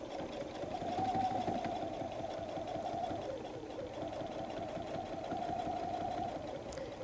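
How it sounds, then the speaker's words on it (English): A sewing machine stitching a messenger bag, its motor humming in a steady continuous drone that briefly dips and resumes as the stitching slows and picks up again, close and alone. "And I start stitching"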